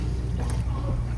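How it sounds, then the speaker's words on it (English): A dishwasher drain pump cavitates after the water runs out, giving a steady low churning rumble with a gurgling, sloshing texture, close and continuous throughout. "Hear the water moving. There you go. Here, it's like cavitating the pump."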